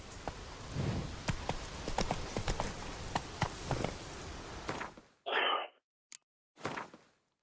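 Horse hooves gallop in The Witcher video game, a steady run of rhythmic hoofbeats lasting about five seconds before stopping, followed by a few short breathy bursts with no talking.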